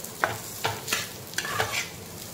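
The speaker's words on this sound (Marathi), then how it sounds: "थोडंसं फ्राय करून घेऊया।" Grated coconut frying with onion in a pan, with a few short scraping stirs of a spatula over a faint, steady sizzle, close up and quiet with no talking.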